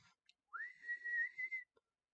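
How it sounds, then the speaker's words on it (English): A single sustained whistle rises quickly in pitch and then holds a steady tone for about a second, with a few faint clicks before and after it and no voices. "it does make a whistling sound"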